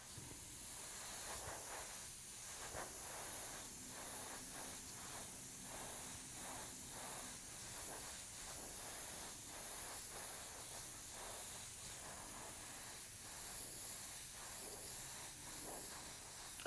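An airbrush sprays black pearl Createx paint reduced with 4011 reducer and balancing clear onto a scale model motorcycle, a steady close hiss that holds without a break for the whole stretch.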